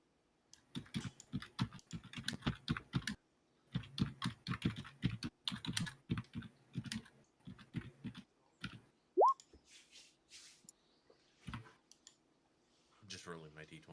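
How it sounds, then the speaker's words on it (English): Rapid computer keyboard typing in bursts, close and clear, with short pauses between runs, a brief whistle-like sound partway through, and quieter clicks near the end, during a Roll20 tabletop game session. "probably a lot of keyboard noises"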